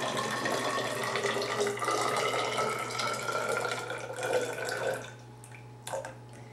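Liquid poured into a graduated cylinder in a lab pours in a steady close trickle, then thins to a few drips at the end.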